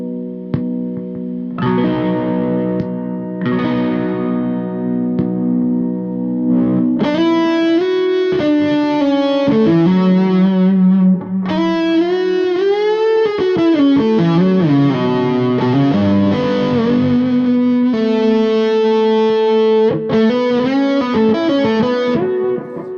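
An electric guitar played through a modified Wazacraft distortion pedal gives thick, sustained, fat-bottomed distorted notes and chords that slide and bend. It plays loud and alone, with one short pause near the start.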